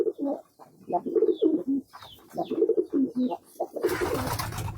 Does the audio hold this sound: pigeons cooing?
yes